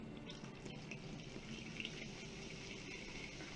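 Soda pours steadily into a bowl of Korean hwachae fruit dessert, a faint continuous fizzing and splashing stream with no voices.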